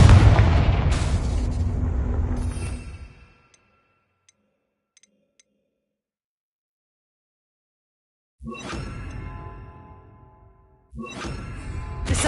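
A Confringo spell in Hogwarts Legacy goes off with a loud fiery boom that decays over a few seconds, then silence, followed by two more short bursts of blast-like rumble.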